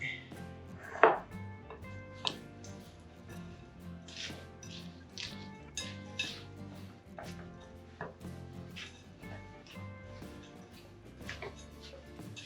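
Oats and granola ingredients being mixed in a bowl give soft, repeated scraping and clicking strokes at close range, quiet and steady, with a brief louder knock near the start.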